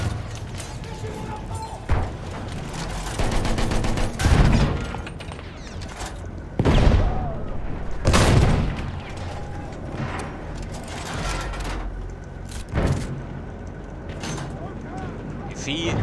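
Battlefield 1 gunfire on the Amiens map, with an enemy machine gun among sharp bursts, clattering mechanical noise and loud impacts in irregular clusters. A player speaks over the chaos.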